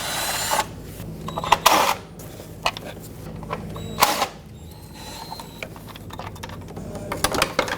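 A hand tool rattles and clicks in short bursts while loosening 8mm bolts from the lower timing cover of a 1997-2006 Jeep Wrangler 2.4L, with uneven mechanical ratcheting and small metallic taps close by.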